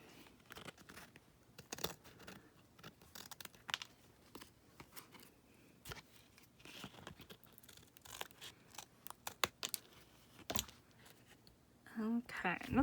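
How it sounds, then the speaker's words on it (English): Scissors snip the ends off glued paper for a junk journal made from a gelatin box, a string of short crisp cuts and rustles close by, with light talk in places. "And then cut off those ends."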